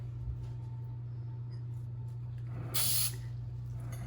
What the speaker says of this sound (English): It's a spray.